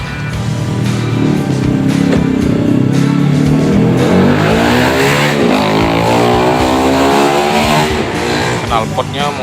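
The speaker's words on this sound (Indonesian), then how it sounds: "kita ganjel gas dengan pipa paralon di RPM 2000 agar terjadi daya hisap untuk infus blekor" A 2005 Toyota Innova engine, with carbon buildup in the combustion chamber, runs with the throttle wedged by a PVC pipe at a steady 2000 RPM to draw in cleaning fluid, giving a loud, continuous raised-idle drone while someone talks over it.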